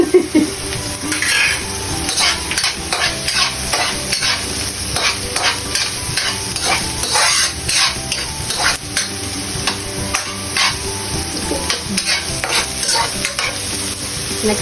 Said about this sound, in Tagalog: Mainit na ang mantika. Unahin na natin ang sibuyas.